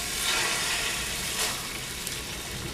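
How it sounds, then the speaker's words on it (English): Food fries in hot oil with a continuous hissing sizzle at close range. A few brief crackles and pops rise above the sizzle. "I like that as much as the frying sound."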